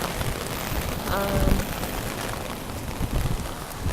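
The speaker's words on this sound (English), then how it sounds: "So it's raining finally in London." Rain falls steadily outdoors in London, a continuous wash of patter and hiss close around the listener.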